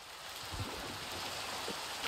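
Steady rain falling in a Minecraft village, a soft continuous hiss of drops with no talking.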